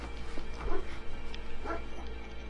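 A small dog in the video game Final Fantasy X gives a few faint yips and whimpery barks in short bursts over a quiet low hum.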